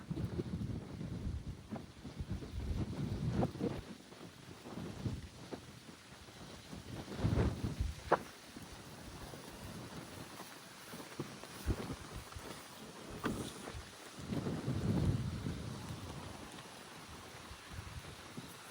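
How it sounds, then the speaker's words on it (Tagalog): Strong wind buffets the microphone in heavy, gusting rumbles, rising and falling throughout with no voices, at Bolabog beach on Boracay Island, a windsurfing and kitesurfing spot. "So lakas ng hangin dito."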